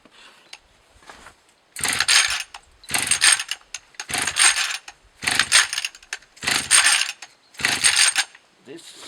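Recoil starter cord of a Husqvarna 240 chainsaw yanked repeatedly during a compression check: six or so evenly spaced, rasping ratchet-like pulls, each about a second long, close and fairly loud with short gaps between.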